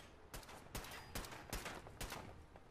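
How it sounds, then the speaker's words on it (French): Gunfire from the video game Fallout 4: five sharp shots at a steady, even rhythm, each a bright crack with a short tail, moderately loud over a faint background with no talk. "Oh, c'est qui me tire dessus, toi?"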